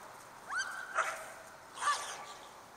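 A Jamthund female dog gives a short high whimper followed by a couple of brief yips or barks outdoors in snow, close and moderately loud, spread over a few seconds.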